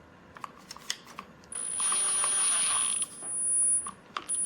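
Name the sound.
hand-tightening a part of a Ryobi pole saw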